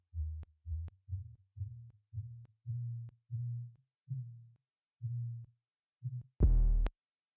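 A mixed trap 808 bass plays a run of short, deep, booming notes with a tone that shifts as its low-mid EQ band is swept, ending in a sharper hit, clean and without talk.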